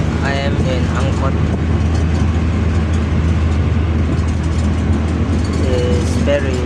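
A steady low engine rumble and road noise fill the cabin of an angkot minibus in Indonesia, running continuously with faint rattles and scattered distant voices over it.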